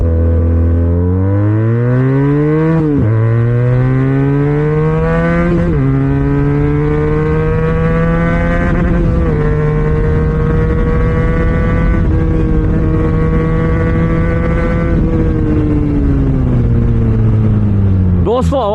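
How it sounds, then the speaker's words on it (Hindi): A Benelli SRK 400 motorcycle rides along a road near a showroom, its engine and exhaust rising in pitch through repeated gear changes and then easing off at the end, loud, close and continuous. "अब मुझे आवाज़ बताओ आप कैसी लग रही है बाइक की"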